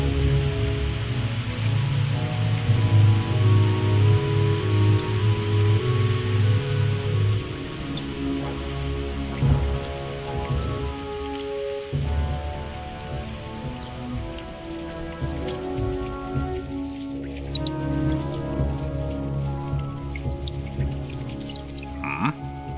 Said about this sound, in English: this wondrous rain was but a sample of what awaits us